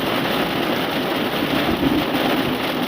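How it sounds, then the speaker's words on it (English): Steady, dense rain noise fills the whole stretch with no gaps, loud and close, with a low rumble of thunder underneath. "you can hear the rain"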